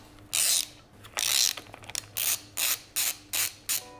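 Ratchet wrench turning engine cover bolts, about eight crisp ratcheting bursts in an uneven rhythm, close and clear with quiet gaps between strokes.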